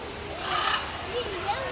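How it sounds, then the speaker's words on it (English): Parrots at a parrot jungle park give a few scratchy squawks and calls in quick succession, moderately close, over a murmur of background noise. "Parrots are loud."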